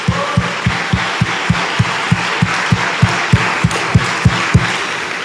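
Church congregation clapping together in a steady, even rhythm, about three claps per second, loud and close with no voices over it.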